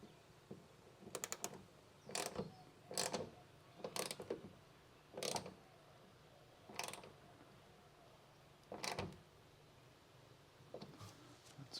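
A ratchet clicks in short, quick bursts while snugging bolts on a 2020 Toyota Tacoma, about a dozen separated rattling runs at close range, fairly quiet, with no talk.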